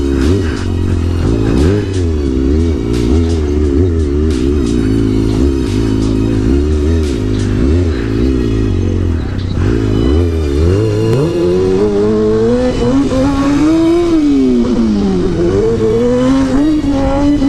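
A motorcycle engine revs loud and close through a wheelie, its pitch wavering up and down in repeated surges before climbing steeply and holding high near the end, with no voices.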